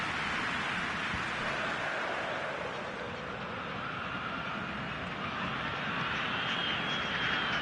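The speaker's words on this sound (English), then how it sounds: "Rain starting to fall here." Rain falls steadily in a PS4 football video game, a broad continuous hiss that persists unchanged throughout under a faint ambient wash.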